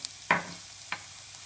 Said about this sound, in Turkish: İkisini karıştırmaya devam ediyoruz ve devam ediyor kavurmaya.